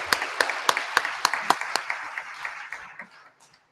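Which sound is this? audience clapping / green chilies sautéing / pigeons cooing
audience clapping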